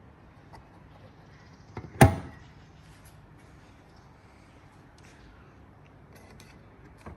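The fuel door on a 2021 Honda HR-V 1.8 E pops open with a single sharp, close click, followed by quiet background.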